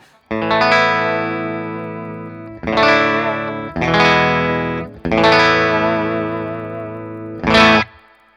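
A Gretsch electric guitar with a treble bleed mod rings out chords that sustain, struck four times with a brief high flourish at the end, lightly effected with shimmer and a hint of grit.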